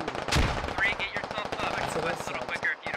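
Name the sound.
gunfire from British forces in video game Squad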